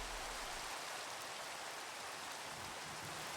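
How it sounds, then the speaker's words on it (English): Steady rain pouring in Minecraft, a soft, even wash of patter with no distinct drops standing out, faint and continuous with no voices. "it's pouring with rain"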